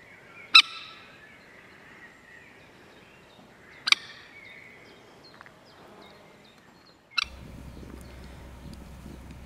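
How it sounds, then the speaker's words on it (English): Young ducks, almost fully fledged, giving three loud, well-spaced calls outdoors, with faint background noise and a steady low rumble after the last call. "Here we've got some young ducks that are almost fully fledged by the look of it."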